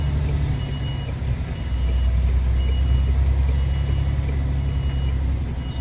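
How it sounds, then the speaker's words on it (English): A heavy ASDA delivery lorry's engine rumbles low and steady as it reverses into a tight space, with a faint repeating beep over the drone. "And now, reversing backwards"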